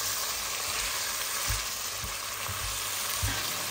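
Tahchin stew ingredients, including split peas, sizzle steadily as they fry in oil in a pan, with soft low thumps of stirring scattered through the continuous crackle.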